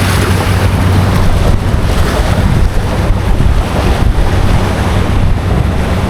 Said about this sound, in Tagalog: Yung hampas ng tubig.